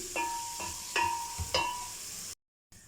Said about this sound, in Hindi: अब इन सारी चीज़ों की जो है वो भुनाई कर लेते हैं